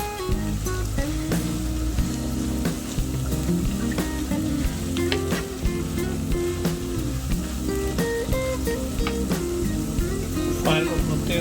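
Moong dal stirred in oil in a frying pan, a continuous sizzle and occasional clinks under music and a voice talking.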